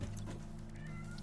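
A single cat meow from a video game kitten, short and close, over a steady low game hum.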